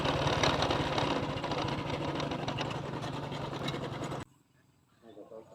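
Car engine rumbling and rattling with rough, steady vibration as it drives along a bumpy rural road, loud and close, then cutting out abruptly into near silence.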